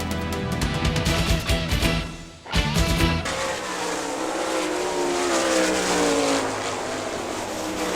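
Race cars from the Gumout series roar around the track at Great Lakes Thunder 2000, a loud pack of engines with a sharp drop and return, then a sustained, rising howl as they pass close by.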